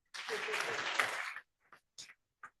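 Audience clapping at a cabinet meeting, a brief burst of applause lasting just over a second, followed by a few scattered single claps fading out.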